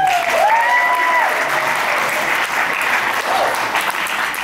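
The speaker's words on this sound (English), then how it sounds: "Let's just get a quick round of applause" Dense, steady applause from wedding guests for the bride and groom at a party, sustained and even throughout, with a few voices faintly under the clapping.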